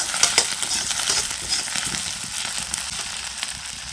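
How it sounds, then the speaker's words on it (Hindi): Cut potatoes hit hot oil in a kadhai and fry: a close, continuous crackling sizzle that starts with a few louder pops and settles into a steady hiss. "अब डाल दूँगी मैं कटे हुए आलूओं को कढ़ाई में भूनने के लिए।"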